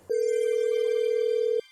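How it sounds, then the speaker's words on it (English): A steady ringback tone from an outgoing phone call sounds once, a continuous electronic note held for about a second and a half before cutting off cleanly, with no voices over it. "It's ringing now."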